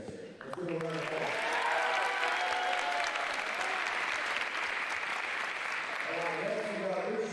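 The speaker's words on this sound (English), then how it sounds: "Let's give him a round of applause." A crowd at a high school signing day ceremony breaks into applause that swells quickly and holds steady, with a voice speaking briefly at the start and end.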